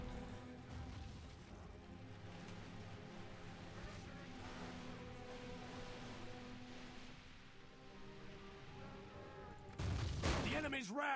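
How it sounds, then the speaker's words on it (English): Lothlorien archers loose volleys on Snow Orcs in the Medieval 2 strategy game, a dense, faint rattle of arrow fire and battle noise with voices underneath, ending in a louder burst of combat. "Maybe we can have our Lothlorien archers fire upon them."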